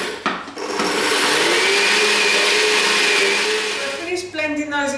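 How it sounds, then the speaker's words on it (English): A food processor blends and grinds biscuit ingredients, cardamom, ginger and rose, into a flour, a loud, steady whirring drone lasting about four seconds before it winds down with a few fluttering pulses. "I'm just going to grind all of these together now"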